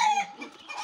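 Chickens clucking on a farm early in the morning, a brief close, clear burst of hen calls with no talking.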